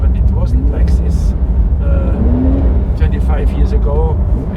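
A Porsche 911 driving on ice gives a steady, loud low engine rumble that runs beneath continuous close-up talking.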